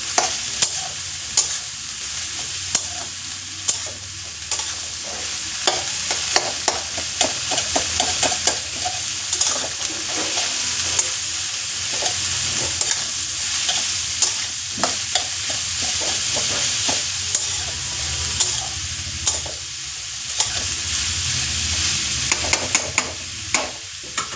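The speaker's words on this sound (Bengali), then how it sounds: "এদিকে তো বাঁধাকপিটা ভাজা হচ্ছে" Cabbage frying in a pan hisses with a constant, close sizzle, while frequent clicks and scrapes of stirring punctuate it throughout.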